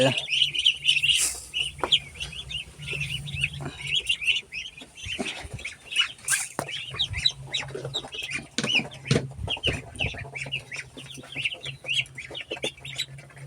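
Many hungry ducks quack and chatter at once at feeding time in a busy, overlapping clamor, with a few louder calls standing out from the constant flock noise.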